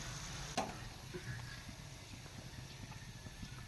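Bitter gourd pieces are lifted out of hot frying oil: a quiet, steady sizzle with a soft scrape from the ladle early on.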